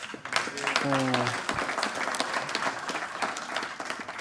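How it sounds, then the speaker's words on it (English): Audience applause rings out at the close of the 2023 Mapungubwe Annual Lecture, a dense wash of clapping that carries steadily throughout, with a voice speaking briefly over it near the start. "Colleagues, another round of applause"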